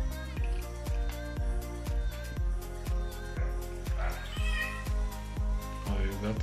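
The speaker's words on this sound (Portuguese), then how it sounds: "o gato tá aí dizendo que aceita também" A cat meowing repeatedly in a home kitchen during homemade requeijão cheese making, clear close meows over a steady rhythmic thumping background.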